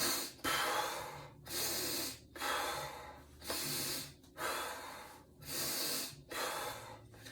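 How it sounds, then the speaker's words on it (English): Deep belly breathing done as a demonstration: about six long, loud breath cycles of slow airy inhales and exhales, close to the mic, with short pauses between them and no speech. "So look, I'm breathing."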